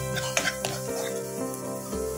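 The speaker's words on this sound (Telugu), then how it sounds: "ఇలాచి వేస్తానండి, లవంగిలు, చెక్క, బిర్యానీ ఆకు అండి. ఇది కూడా కొంచెం వేయించుకుందాం." Onions with cardamom, cloves, cinnamon and bay leaf fry in a pan for an Andhra-style paneer butter masala, a soft steady sizzle with a few clinks of stirring under background music.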